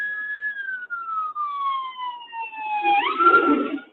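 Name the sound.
fire truck siren passing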